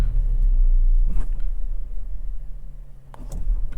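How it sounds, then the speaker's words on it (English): A 2025 Chevy Equinox RS AWD with a 1.5-liter EcoTec turbo four-cylinder restarts from auto start-stop: a steady low idle rumble with a brief firing surge early on and another short bump near the end, no talk. "And boom, it just fires right back up."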